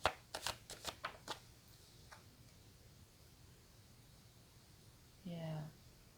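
Tarot cards are shuffled and drawn close by, giving quick, crisp riffling flicks in a cluster at the start, then a quiet stretch before a brief spoken voice.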